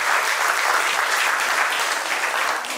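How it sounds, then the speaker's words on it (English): Dense, sustained clapping from a crowd at a charity event, applauding children, steady and fairly loud throughout. "A big round of applause for our children."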